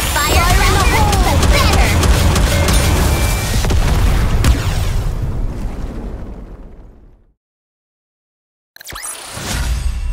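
A big explosion in the video game Nikke, from its Neverland event, lands as a loud, broad booming blast that rumbles and fades out over several seconds to silence before another burst of sound starts.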